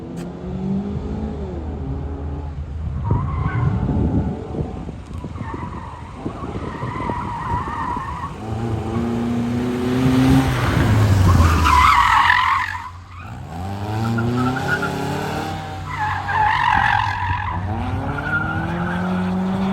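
A Toyota Vios skids through a gymkhana course at Pathum Speedway, its tires squealing loudly again and again while the engine revs, rising and falling with each slide and burst of acceleration.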